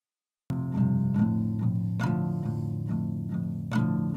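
An acoustic guitar, close-miked with a single spot mic, plays plucked notes and chords that ring clearly one after another, bright and intimate, with nothing else heard.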